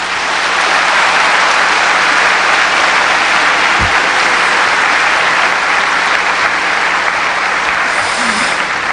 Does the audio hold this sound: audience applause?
yes